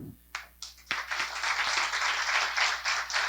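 Audience applause starting as a few scattered claps and swelling into steady clapping from a crowd, moderately near and fairly quiet.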